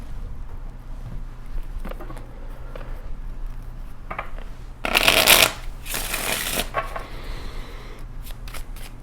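Tarot cards are shuffled and drawn in a quiet room, with soft riffling and a loud, close burst of card flicking midway, then lighter rustles.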